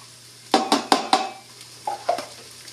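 Onions and celery going into a cooking pot: a quick series of sharp clinks and scrapes of a utensil against the pot, four in a row, a pause, then two or three more, close and clear.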